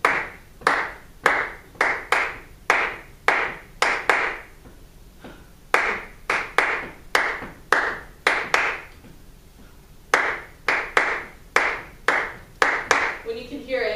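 A group claps a steady beat in even bursts of loud, crisp hand claps, pausing and restarting a few times, close and clear.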